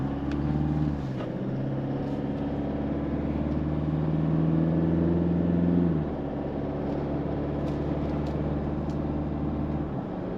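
A 2022 Toyota Hilux Invincible X with a 204 bhp engine hums and pulls on a smooth road, engine note rising then dropping at a gear change around six seconds, steady cabin drone without talk.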